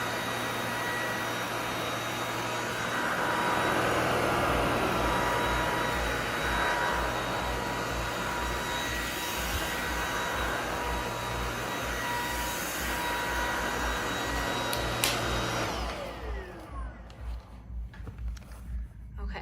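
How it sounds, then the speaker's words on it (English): FABULETTA cordless vacuum cleaner running continuously over hair, a steady close motor whir with low hum that cuts off near the end, leaving faint handling noises. "I wonder if I just keep vacuuming, if it will eventually just continue to suction it up"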